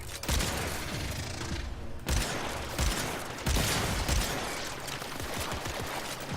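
Rapid gunfire in the Warframe video game: dense, continuous volleys of automatic shots with sharp bursts and mechanical clatter, loud and close, with a brief pause before the firing resumes.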